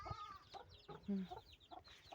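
Chickens cluck in short, quiet bursts close by, several brief calls scattered irregularly over a couple of seconds.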